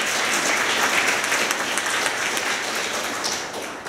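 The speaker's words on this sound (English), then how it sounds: "Please give them a round of applause." A crowd at a demo day event claps in steady, dense applause that stays loud throughout and thins slightly toward the end.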